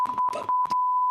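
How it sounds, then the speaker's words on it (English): A steady high-pitched censor beep sounds in bursts, interrupting short muffled bits of speech before holding as one continuous tone. "I can beep it out"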